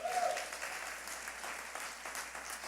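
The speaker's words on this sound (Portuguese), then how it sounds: "Aplauda o Senhor nessa noite." A church congregation at an evening family service claps together in praise, a steady mass of applause filling the room with no voices standing out.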